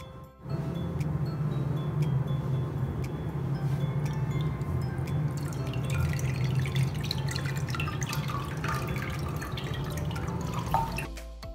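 Water drips and trickles steadily through a sieve set in a container while making homemade recycled paper, a continuous close, moderately quiet patter lasting throughout without talk.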